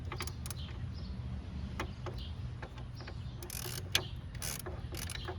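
A swivel-head ratchet clicks in quick bursts while working on the hub bearing of a 2002 Pontiac Grand Am, faint metallic pawl ticks over a low background hum, close by with no talk.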